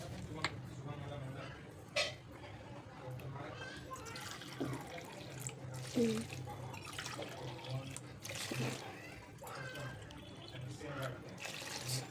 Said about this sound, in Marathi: पाच कप पाणी घातलं आहे